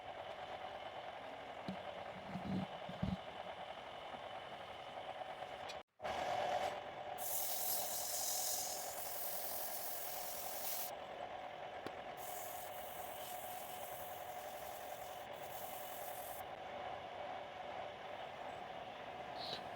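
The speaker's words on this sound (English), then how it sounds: "I now sand with 2 different grits and then go on to burn the rings." Sandpaper working a wooden handle for a small garden shovel as it spins on a lathe, a steady machine hum and continuous abrasive rasp with a brief drop-out partway and bursts of brighter hiss.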